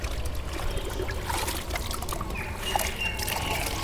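Water pours and trickles steadily onto a bike being washed, a continuous close splashing dribble with no voices over it.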